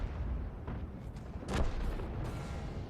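A self-propelled M53/M55 artillery gun fires in World of Tanks with one heavy, deep boom rolling over a continuous low rumble, alone without speech.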